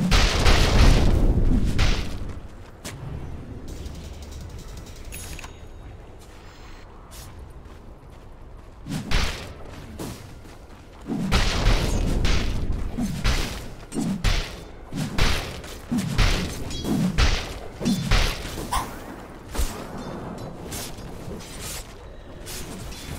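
Dota 2 gameplay with the middle tower under attack, heard as a stretch of heavy booms, thuds and mechanical impacts. The hits come in clustered bursts separated by brief quieter gaps.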